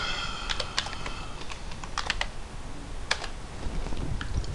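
Someone types a command on a computer keyboard connected to a Raspberry Pi 2, a quick, uneven string of crisp close-up key clicks with short pauses and a faint room hiss underneath.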